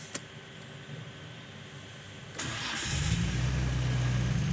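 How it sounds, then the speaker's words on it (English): A boosted car engine cranks briefly and fires up, catching into a steady rumbling idle that holds close and even after a short mechanical clunk and starter whir. "now we're going to fire up the engine."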